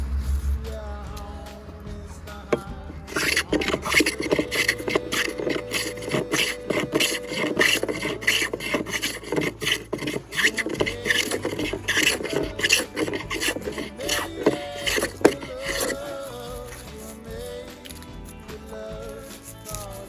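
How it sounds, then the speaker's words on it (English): Continuous rhythmic rasping strokes of a hand plane cutting a chamfer on an oak beam, close and fairly loud, repeating quickly for most of the stretch before tapering off. "I'm planing this by hand, the chamfer itself"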